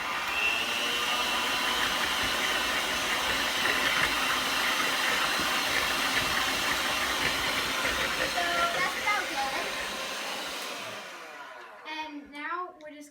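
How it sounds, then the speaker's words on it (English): Butter is beaten in a bowl until creamy, giving a steady, whirring, motor-like churn for about ten seconds. The whirring then winds down and stops, leaving a voice speaking briefly at the end. "now we're going to whisk it up until it's nice and creamy"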